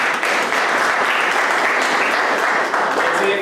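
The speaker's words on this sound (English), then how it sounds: "let's give him applause for this" Audience applause fills a college hall in Nashik, India, a dense, steady wash of clapping from many hands that holds at full loudness throughout with no talk over it.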